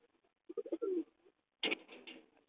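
Pigeons in a home loft give a few soft, close coos in two short bursts separated by a brief pause.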